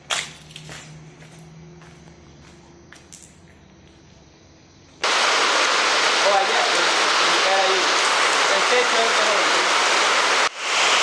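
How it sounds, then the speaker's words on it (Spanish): After a few seconds of quiet background, heavy rain suddenly begins pouring, a loud steady hiss that continues for several seconds before cutting off. "nos agarró la lluvia"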